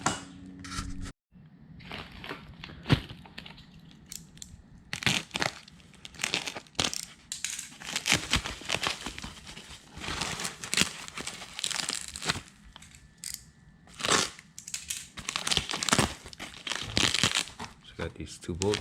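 Packaging for a metal windage tray being opened by hand, with bursts of crinkling and rustling plastic and cardboard plus light clunks, close and fairly quiet, continuing in irregular spurts.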